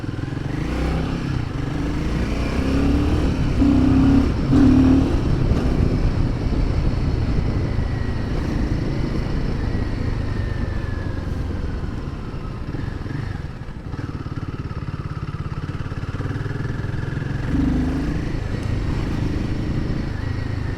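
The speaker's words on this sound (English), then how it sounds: "Seems like I'm the one who's gonna do the break-in on this motorcycle." A new Royal Enfield Himalayan 450 motorcycle ridden on its first run, engine droning and rumbling continuously up close with wind noise and small shifts in pitch as it rolls along.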